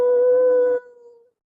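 A man imitates a wolf's howl with a single loud sustained tone that drops to a softer trailing note and fades out.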